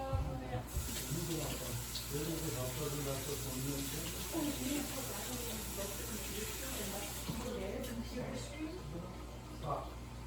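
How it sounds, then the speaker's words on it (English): Tap water runs steadily into a sink as hands are washed during a home baking session, a continuous hiss of flow lasting the whole stretch under a voice. "But before that, I'm gonna wash my hands."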